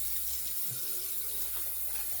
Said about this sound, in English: we'll rinse our hands off